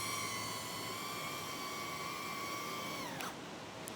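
A HappyModel Mobula 8 tiny whoop FPV drone whines at a steady high pitch nearby, its rotor tones holding and then dropping sharply as it lands, ending in a brief clatter and quieter hiss.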